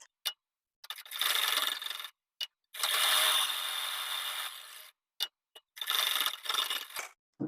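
A sewing machine stitches a blouse collar in bursts, each a dense whirring rattle of a second or more, with short clicks and silent gaps between runs.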